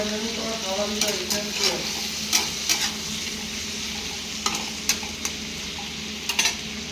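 Tomatoes with salt sizzle in a pan for a chicken curry, a steady close frying hiss broken by sharp clicks and scrapes of a spoon stirring against the pan.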